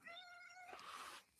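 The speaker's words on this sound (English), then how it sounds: "And I think you might hear a cat meowing right now." A cat meowing indoors at a temple during an evening talk, one drawn-out tonal meow followed by a shorter rising cry, faint and fairly close.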